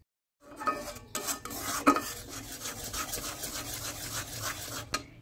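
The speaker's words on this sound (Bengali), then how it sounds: "দুধটাকে খুব ভালো করে গুড়ের সাথে এইভাবে মিশিয়ে নিতে হবে।" Milk powder is being stirred into melted jaggery in a pot, with quiet scraping and rubbing strokes of a spoon that repeat irregularly after a brief silent start.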